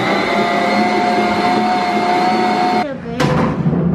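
Electric stand mixer running at medium speed while kneading bread dough in a home kitchen, a steady loud whirring motor hum with fixed tonal whine, briefly dipping and catching near the end.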